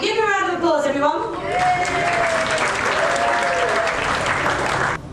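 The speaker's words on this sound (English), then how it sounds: "Give him a round of applause, everyone" Talent night audience applauding an act, a voice speaking at first, then loud, dense clapping with some cheering that sustains evenly before cutting off sharply at the end.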